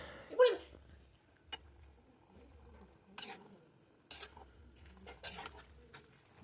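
Cabbage and potatoes being sautéed in a pan, with utensils clinking and scraping against it at intervals over a faint, low sizzle.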